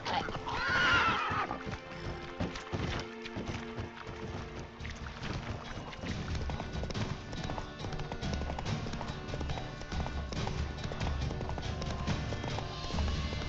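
The horse Roach in The Witcher 3 gives a sharp whinny at the start, then gallops with a steady rhythmic clatter of hooves over in-game ambience.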